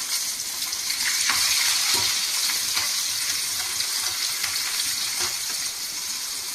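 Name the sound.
shallots frying in oil with garlic and asafoetida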